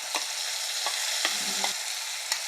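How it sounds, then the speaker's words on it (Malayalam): Ground masala paste for a Kollam-style fish curry frying in oil: a steady, close sizzle with a few sharp spoon-scrape accents as it is stirred in the pan. "അപ്പം നമ്മൾ ഈ അരച്ചു വെച്ചിരിക്കുന്ന ഈ സാധനമില്ലേ ഇത് അങ്ങോട്ട് ഒഴിച്ചു കൊടുക്കാം ഈ അരപ്പ്"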